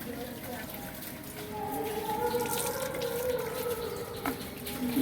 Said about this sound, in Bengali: সাবানটা ধুয়ে দেন।